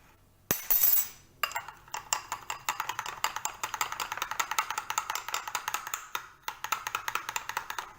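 Rapid, rhythmic clinking of a utensil whisked against a bowl as a cashew tamari dressing with olive oil is mixed, close and continuous with a short pause partway through.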